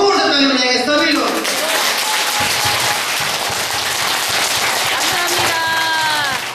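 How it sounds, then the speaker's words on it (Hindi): Audience clapping loudly with hands raised overhead at a gathering, a dense steady roar of applause filling the clip, with a voice speaking over the start and a few voices again near the end. "सब लोग हाथ उठा के ऊपर से जोर से ताली बजाएंगे सभी लोग।"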